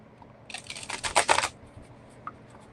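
A deck of cards is riffle shuffled in one quick burst of crisp, rapid fluttering clicks lasting about a second, close and fairly loud, followed by a faint tap and quiet.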